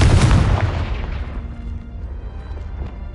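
A Confringo blasting spell explosion in the Hogwarts Legacy video game: a loud, close booming burst that rolls off into a rumbling, crackling decay over a few seconds.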